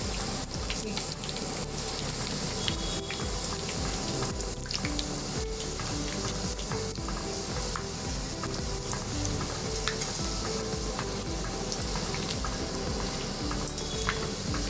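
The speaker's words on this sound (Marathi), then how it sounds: "मस्त अशी बुंदी तळून घ्यायची" Boondi, small drops of gram flour batter, fry for laddoos in a pan of hot oil, giving a steady, dense sizzle and bubbling that holds at an even level throughout, with light stirring in the background and no talking.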